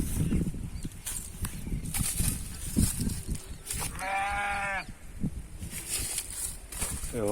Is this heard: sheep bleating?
yes